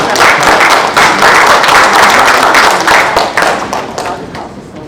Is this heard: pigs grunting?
no